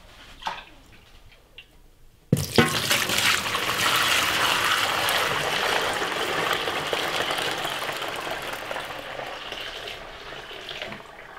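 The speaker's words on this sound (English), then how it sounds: "Put the funnel in the bucket and we'll just pour our milk in and see how much we got for the day." Fresh Jersey cow milk poured through a funnel filter into a bucket. After a soft clunk, a loud, steady rushing pour runs without a break.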